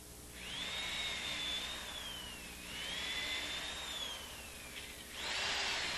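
A power drill bores holes into a base cabinet through a DG1 drill guide, whining up and sagging in pitch over three long, steady passes, close and alone.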